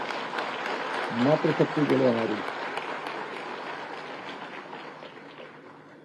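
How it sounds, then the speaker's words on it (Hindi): Audience applause at a public address in Uttarakhand, a short burst of clapping rising under someone speaking Hindi into a microphone, then fading as the speech goes on. "ताली बजाइए एक बार जोर से"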